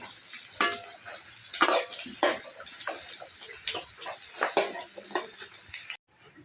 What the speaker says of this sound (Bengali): পেঁয়াজটা লালি লালি ধরনের হলে পরে ডালটা সম্বাস দিয়ে দিব।